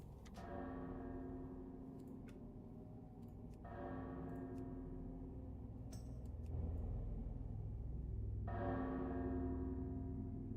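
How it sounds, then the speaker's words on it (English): A low church-style bell tolling nine o'clock in World of Warcraft: The Burning Crusade, its deep strokes swelling in long sustained waves over a steady rumble, moderately distant and unaccompanied by talk. "The bell in the background."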